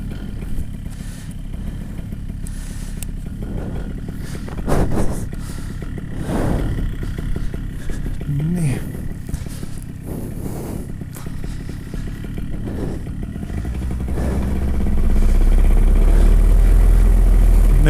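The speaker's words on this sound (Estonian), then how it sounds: "Nüüd siis lasen mootorid natuke suuremate võimsustega töötada." Paramotor engine running near and loud with a mechanical clatter, its pitch and power rising as the throttle is opened toward the end.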